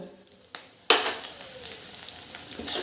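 Moong dal fries in hot oil with whole cumin, dry chillies and bay leaves, starting with a few sharp clatters before settling into a steady, bright sizzle close by, with no speech.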